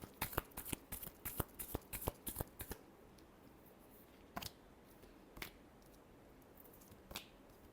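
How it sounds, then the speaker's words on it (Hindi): A deck of tarot-style reading cards being shuffled close up, a rapid run of crisp riffling flicks for a few seconds, then a handful of isolated soft card snaps in quiet surroundings. "last shuffle"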